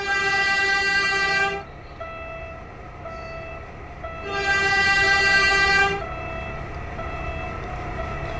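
In a cars-versus-trains video game, a train's horn sounds in two long, loud blasts separated by a pause, over the continuous rumble and rattle of the passing train.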